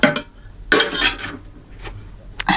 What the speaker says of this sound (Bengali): তোমার থালা নিয়ে নি।